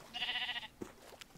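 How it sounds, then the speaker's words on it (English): A sheep bleats in the Minecraft video game, one wavering nasal bleat lasting about half a second, followed by faint clicks and quiet game sounds, soft overall. "No one likes sheep in this game except for their stupid wool."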